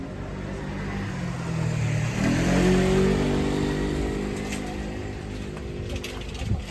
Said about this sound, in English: So lovely with the motorbike in the background.